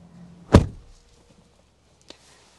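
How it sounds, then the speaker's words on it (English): A 2024 GMC Yukon Denali's door shuts with one solid, close thunk, followed by a faint click a moment later in an otherwise quiet cabin. "as I close up the door"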